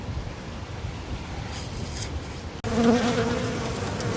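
Dense, steady buzzing of many honeybees close by under a hive, growing louder and fuller partway through, with no talking.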